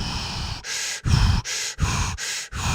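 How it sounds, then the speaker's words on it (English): Heavy, congested breathing through a stuffed-up nose: loud rhythmic inhales and exhales, about five cycles separated by short pauses, close to the listener with no talking. "Heavy breathing. Stuffed up."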